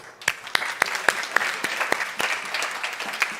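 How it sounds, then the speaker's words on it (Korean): A high school church congregation at Sunday worship claps along, with sharp, evenly spaced hand claps in a steady beat over a softer murmur of applause. "야 박수"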